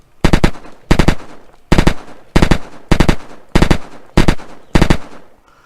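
Ranger gun firing in the video game Unturned, eight loud close bursts of rapid automatic fire in an even rhythm, each burst a short rattling cluster of shots.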